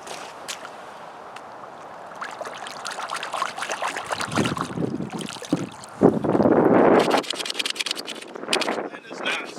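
Water splashes and sloshes as a Taurus G2C pistol is rinsed in an outdoor mud puddle, with wind noise and irregular bursts of swishing that grow louder and denser toward the end, and a voice talks over it.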